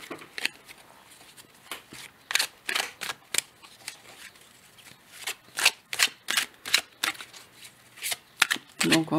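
Oracle cards from an intuitive-awakening deck are shuffled close up in quick, papery riffling bursts, with someone speaking softly between them.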